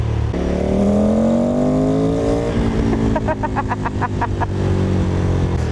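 A Ducati motorcycle engine revs up, rising in pitch, then eases off and falls back, close and loud, with a stuttering burble as it slows.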